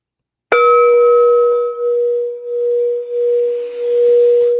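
A pure sine tone played to pace a breathing exercise sounds abruptly and holds steady and loud for about four seconds, a clean, unwavering hum with faint ringing overtones.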